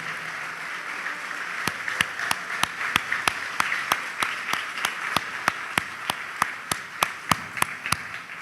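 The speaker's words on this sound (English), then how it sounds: "please stand and applaud our Rebbeim, our Morot, and teachers" Audience at a school graduation ceremony giving rhythmic, steady clapping in unison, sharp claps at an even pace over a faint room murmur, moderately distant.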